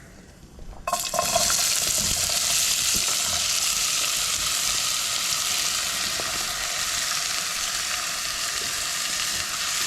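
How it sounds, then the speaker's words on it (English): Onions dropped into screaming-hot olive oil in a small pot burst into a loud, steady sizzle after a brief quiet start, crackling evenly and close up for the rest of the clip with no talking. "I'm gonna throw in about that much olive oil and all of my onion."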